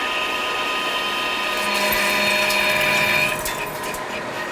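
A brand new Lion metal lathe takes a cut with an insert, giving a steady, loud whine of motor and cutting tone that holds evenly for about three seconds, then eases slightly lower.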